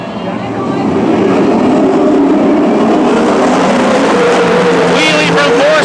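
360 sprint cars roaring off on a restart at Petaluma Speedway, a loud, dense engine blare that builds quickly and stays sustained, with a race announcer calling over it.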